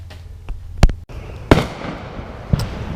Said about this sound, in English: as you can hear, the fireworks going off here